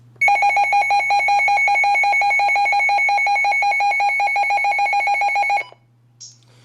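A NOAA Weather Radio sounds its alert, a loud steady two-tone electronic alarm lasting about five seconds before it cuts off, followed by a short faint beep.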